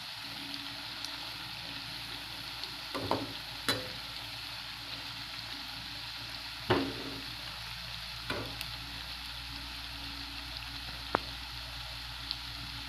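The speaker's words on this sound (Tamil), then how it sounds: "தீயை வந்து ஸ்லோவாக வச்சுட்டு இது மாதிரி பொரிச்சு எடுத்துருங்க" Drumstick leaf pakoda frying in oil over a slow flame, a steady soft sizzle throughout with occasional scrapes and taps of a stirring spoon.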